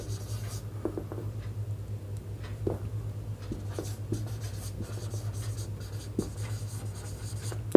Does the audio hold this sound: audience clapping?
no